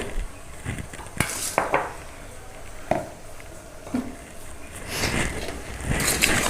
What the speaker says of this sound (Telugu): ఇప్పుడు అన్నీ కూడా ఒకసారి కలుపుకోవాలి.